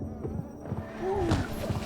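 Buzzing of large bees in the video game Hollow Knight, a continuous insect drone with pulsing wingbeat texture, close and moderately loud alongside other game sounds.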